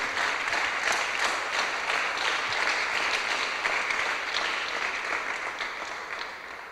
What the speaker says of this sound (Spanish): le da un aplauso al Señor esta noche